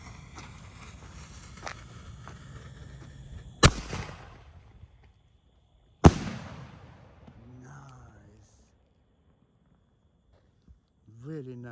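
Two loud, sharp fireworks bangs from a Masters 7-inch, Masters 6-inch or Ganjas 6-inch shell, about two seconds apart, each with a decaying rumble, surrounded by people talking before and after.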